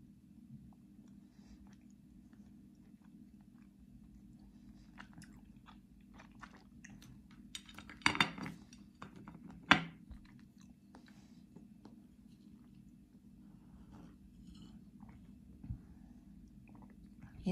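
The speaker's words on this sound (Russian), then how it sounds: "При укусе распадаются на кусочки, вот они хрустят." Close biting and chewing of crunchy Kyrgyz sawn sugar dessert, a few crisp cracking crunches clustered in the middle over a steady low hum, otherwise quiet with no talking.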